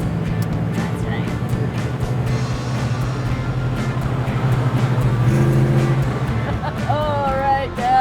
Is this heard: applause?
no